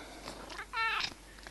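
A cat gives a single short, clear meow up close, with faint quiet sounds before and after.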